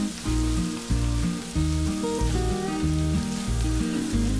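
Meat frying in a pan with rosemary, thyme and flour, giving a loud, steady close-up sizzle with crackling and pops throughout.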